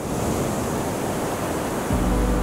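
Ocean surf with waves washing in continuously, a dense steady roar of breaking water that swells slightly louder near the end, close and without voices.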